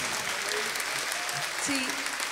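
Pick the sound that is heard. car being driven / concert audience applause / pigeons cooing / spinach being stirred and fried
concert audience applause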